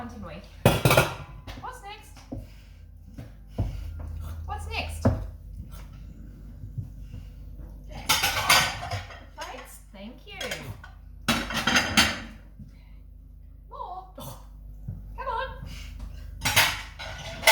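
Dishes, pans and cutlery being unloaded from a dishwasher produce sharp clinks and clattering bangs in irregular bursts with quiet gaps, close by, and occasional voices are heard between the clatters.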